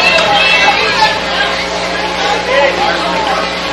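A high school football stadium crowd murmurs and chatters at Baylor versus Father Ryan ahead of a big third-and-five, a steady, dense babble that swells slightly without any sharp cheers.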